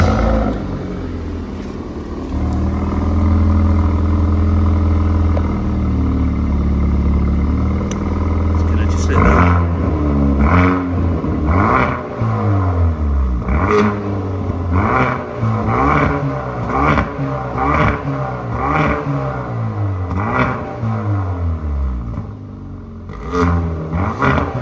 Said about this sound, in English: Really great sound coming from that engine.